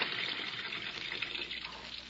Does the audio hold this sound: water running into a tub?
yes